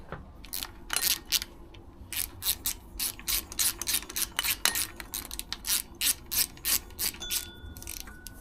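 A ratchet rapidly clicking while tightening bolts on a power steering pump from a 1999-2007 Mitsubishi Montero/Pajero, bursts of close, crisp pawl clicks with short pauses between strokes and no talk.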